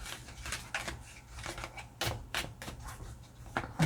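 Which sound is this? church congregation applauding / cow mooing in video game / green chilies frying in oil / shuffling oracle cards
shuffling oracle cards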